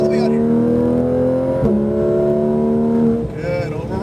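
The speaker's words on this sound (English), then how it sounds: "Squeeze back on the gas pedal through, keep accelerating through" A car pushes hard on the Speed Vegas race track, its engine droning loudly in steady harmonic tones that dip briefly mid-run before settling, while a driving instructor talks over it.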